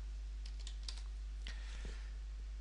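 Typing on a computer keyboard while entering contour settings in surveying software: a few soft, quick key taps in short bursts over a low steady hum, with no talking.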